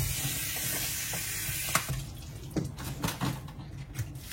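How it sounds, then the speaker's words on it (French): Running water sprays steadily for a while, then breaks into splashing and dribbling as something is rinsed nearby, with no talk. "Et là maintenant je vais rincer."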